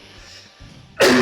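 A single loud, harsh cough bursts in near the end, close and forceful after a stretch of quiet background hum with no talking.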